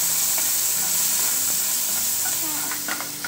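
Curry leaves, onion and tomato frying in hot oil in a pan for a Malvani white peas usal, giving a loud, steady close sizzle with a few soft stirring scrapes and no talking.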